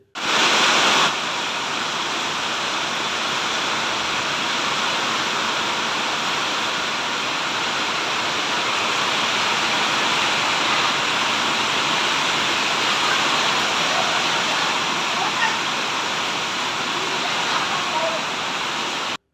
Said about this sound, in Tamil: மேம்பாலத்தில் மழைநீர் வெளியேறும் குழாய்களில் அருவி போல் தண்ணீர் கொட்டியது